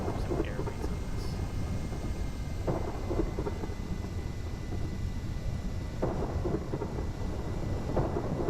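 A thunderstorm in the video game Kerbal Space Program rumbles continuously with rolling thunder and steady rain, and a few sharper cracks break through the low, dense roar.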